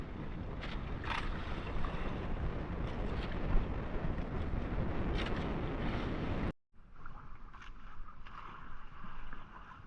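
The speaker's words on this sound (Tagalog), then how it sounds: "Buti na lang at medyo kumalma na yung alon." Sea waves around a small boat at sea, a loud continuous wash of water and wind noise with a brief dropout partway through, then a quieter rush of water.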